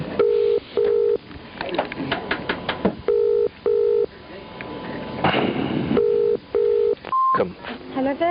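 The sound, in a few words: telephone ringing on tech support call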